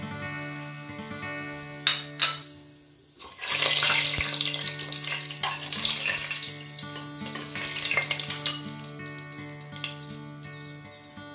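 Cinnamon sticks, bay leaves and cardamom frying in oil in a pan: after a quiet start with a couple of knocks, a loud hiss bursts in and settles into a steady close sizzle with faint crackles, accompanied by low background music.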